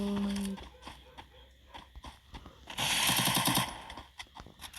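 Rapid bursts of UMP submachine gun fire in the Free Fire battle royale game, a loud dense rattling volley mid-clip followed by scattered quieter in-game shots and clicks.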